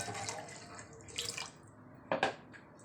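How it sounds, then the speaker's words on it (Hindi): Water poured into a cooked masala for kofta curry with potatoes, heard as faint splashing and trickling in two short bursts against a quiet kitchen background. "अब इसमें हम पानी डालेंगे"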